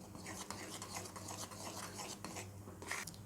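A spoon stirs flour into a sweet mixture for palm-fruit Chitrakut sweets, giving soft, close scraping and rasping strokes in an irregular rhythm, quiet overall with a few sharper clicks.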